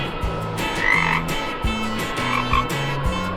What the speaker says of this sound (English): A little frog is hopping happily on the green grass.